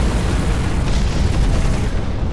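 Mech bombardment in the Hawken beta game: a loud, continuous roar of booming explosions filling the whole clip, dense and heavy with no talk.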